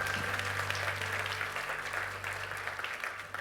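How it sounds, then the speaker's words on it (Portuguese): Church congregation applauding during a Portuguese-language sermon, a steady wash of many hands clapping with a faint low hum beneath, gradually easing off. "Vamos dar mais um aplauso ao Senhor."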